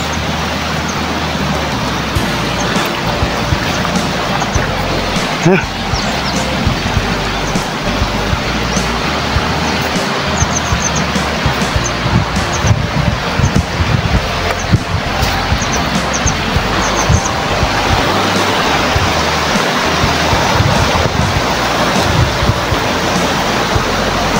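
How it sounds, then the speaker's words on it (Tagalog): Strong current of a cold spring-fed river in Karayan, Abra, rushing over stones in a steady, loud, unbroken roar close by, with no voices. "Lakas ang agos ng tubig oh."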